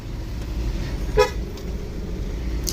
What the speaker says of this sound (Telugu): హైవేలో ఫుల్ ట్రాఫిక్ ఉంది